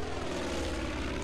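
A propeller airplane engine in Far Cry 5 drones loud and steady throughout, a continuous close-up hum with no talk.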